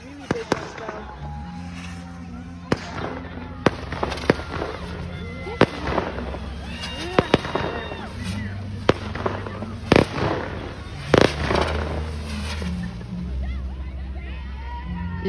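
Fireworks explode in a series of sharp cracks and booms, some near and loud, others softer, spaced irregularly over a steady outdoor background while people talk and react throughout.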